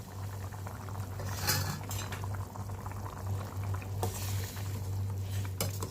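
Steady bubbling of tamarind water at a rolling boil for eggplant curry, close by, with a low hum and occasional light clinks of utensils; no talking.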